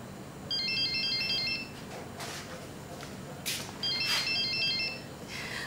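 A telephone rings indoors in two short electronic trilling bursts separated by a pause, fairly faint against background noise and rustling.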